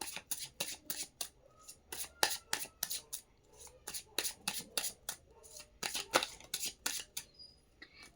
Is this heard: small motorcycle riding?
no